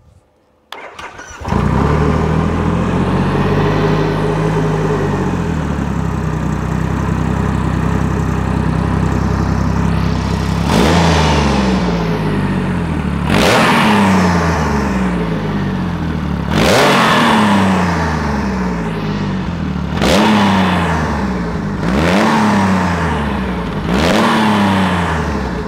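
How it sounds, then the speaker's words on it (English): A supercharged Triumph Rocket 3 TTS motorcycle on a dyno starts up and idles loudly, then is repeatedly revved in sharp rising blips with supercharger whine over a deep, steady engine rumble. "So I suppose you want to hear what it sounds like."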